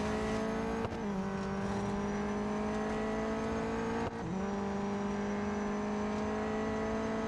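A race car's engine in Real Racing 3 drones steadily at high revs, briefly dipping twice during gear shifts before holding a sustained, even tone.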